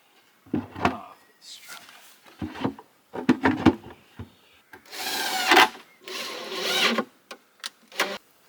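Wood being rubbed with oil on a handmade wooden beehive-style compost bin in a small garden, heard as irregular close scraping and wiping strokes, some short and some drawn out, with faint speech in between.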